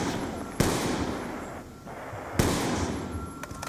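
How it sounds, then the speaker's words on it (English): Two sharp grenade blasts go off in Black Ops 2 Zombies on the Buried map, each a loud crack with a decaying rumble, a couple of seconds apart, with lighter gunfire pops near the end. "Just throw all the grenades."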